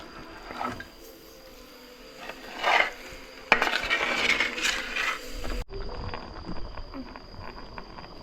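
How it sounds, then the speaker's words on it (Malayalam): Chicken curry ingredients stirred in a pot, with a spoon clattering and scraping against the metal in irregular bursts. The clatter is louder around the middle, then softer, clinking strokes follow. No one speaks. "ഇനി ഇതെല്ലാം നന്നായിട്ട് നമുക്കൊന്ന് ഇളക്കി യോജിപ്പിച്ചെടുക്കാം"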